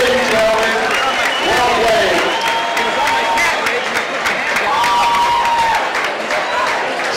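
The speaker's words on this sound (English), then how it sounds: "Standing ovation from the Rush Crowd Nation." An arena crowd at a RushClub fight event gives a standing ovation, with sustained loud applause and cheering, shouts and whistles rising over the clapping.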